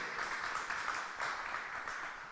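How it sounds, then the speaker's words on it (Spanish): Brief audience applause for artist Vanessa Languasco at a Miradas Contemporáneas event, a soft, even patter of many hands that stays steady and fairly faint throughout. "Vanessa, un aplauso para Vanessa."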